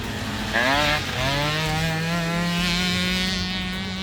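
A Banshee quad racing on a track, its engine loud and close, pitch climbing and surging as it revs hard and holds a steady high drone throughout.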